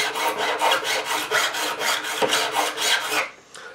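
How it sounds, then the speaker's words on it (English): A crowning file with a built-in crown rasps along an acoustic guitar fret on a Tanglewood SJ-5, loud, steady back-and-forth strokes in an even rhythm, close up, stopping near the end. "I'll take my crowning file, which has got a crown built in, and just to remove any burrs and to even everything out"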